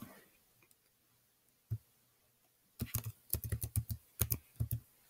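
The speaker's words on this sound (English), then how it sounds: "you're going to type in" Typing on a computer keyboard, with a lone keystroke followed by a quick run of crisp close clicks in two short bursts, set against a quiet room.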